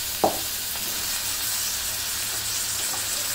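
Beef pieces, about 1.5 kg washed meat with bone and fat, drop into a hot pot with a brief burst, then a steady sizzling hiss continues alone.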